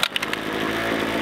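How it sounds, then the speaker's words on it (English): A gasoline-powered leaf blower starting up outdoors in cold weather, a few sputtering pops giving way at once to a loud, rough two-stroke engine roar, close by and alone. "So I get my gasoline leaf blower."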